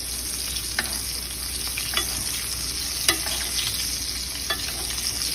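Blackened salmon fillet sizzling steadily in a pan of hot butter while being basted, a continuous bright crackle with occasional spoon scrapes and louder spatters about once a second, close and loud with no talk.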